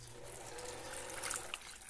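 Water trickles steadily into a soup pot while a weight-loss soup without pasta is being made, a soft continuous pour at low level with a few small splashes and no talking.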